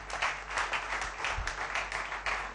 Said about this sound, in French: Alors applaudissez très fort pour Muriel Munga